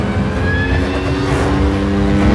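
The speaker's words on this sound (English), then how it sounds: "There's no speedometer, so I do it by sound and feel of the bike." Motorcycle engine held at speed during a film stunt, a loud, continuous roar with a steady droning pitch and rushing wind, close and unbroken for the whole moment.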